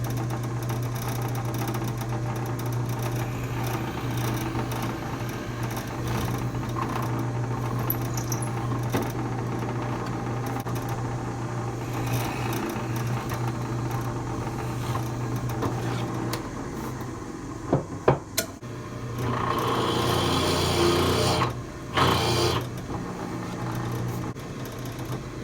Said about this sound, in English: now let's just go back to the shop and we can pre-drill and countersink those holes